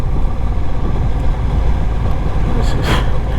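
A Honda Rebel 1100 motorcycle on a test ride, a loud, constant low engine rumble buried in heavy wind roar, with a brief hiss of air near the end.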